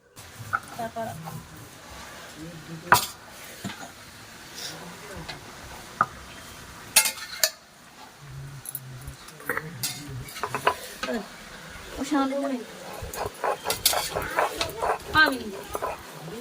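Chicken meat frying in a wok over a village stove is stirred with intermittent scraping clatters under a soft sizzle, while people talk and chickens cluck in the background.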